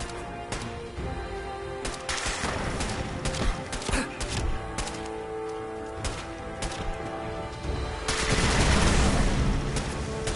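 Gunfire in an online shooter video game, rapid bursts of shots in clusters with a louder, denser volley near the end, heard close and alone without talk.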